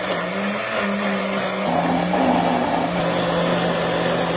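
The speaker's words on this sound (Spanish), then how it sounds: "Vamos a licuar." A blender whirs steadily, chopping and liquefying chopped beetroot and red onion, with a loud, continuous motor drone that shifts pitch slightly midway as the load changes; no talking.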